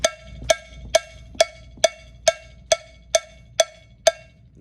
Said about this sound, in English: This cowbell sounds like this.